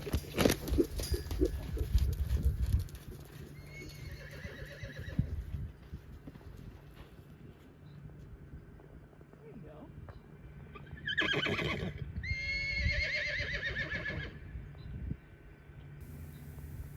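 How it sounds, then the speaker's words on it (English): A young two-year-old stud colt in a round pen gives loud, repeated whinnies mid-clip, with hoof clip-clop and shuffling movement at the start, heard close and alone. "I'm still just getting a feel for this horse."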